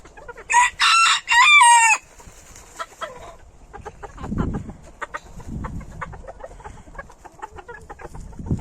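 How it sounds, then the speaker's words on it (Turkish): A rooster crows loudly once near the start, followed by softer clucking and scratching sounds from nearby hens. "Çok komik bir horoz."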